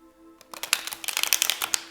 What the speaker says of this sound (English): This deck doesn't like to be shuffled.